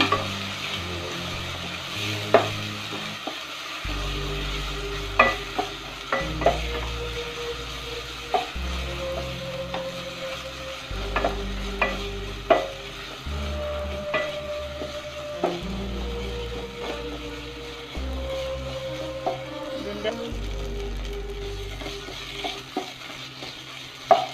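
Coriander and spice powders sizzle in a pan for chicken curry while a spoon stirs, with a steady fry under repeated scraping and clinking strokes from close by, and no talk.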